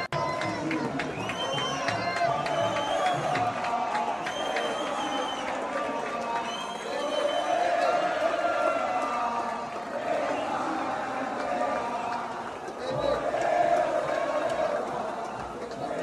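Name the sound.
football crowd cheering Neymar at Vila Belmiro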